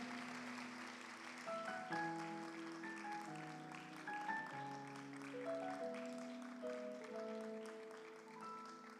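A church congregation claps and cheers for Jesus, a steady wash of applause running the whole time beneath sustained keyboard chords that shift every second or two.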